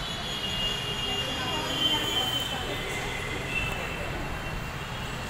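A Pune Metro train at Pimpri PCMC station, wheels squealing in a sustained high whine over a steady low rumble, with faint background voices.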